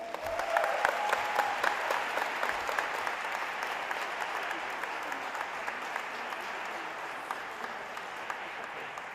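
An audience at the Baird Center expansion ribbon-cutting ceremony in Milwaukee applauds to welcome Mayor Cavalier Johnson, a steady, sustained round of clapping from a large crowd that holds for about nine seconds.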